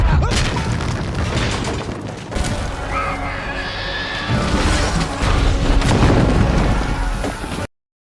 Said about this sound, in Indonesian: Mendengar suara meriamnya saja ternyata membuat Jack langsung tahu bahwa itu adalah kapal Black Pearl.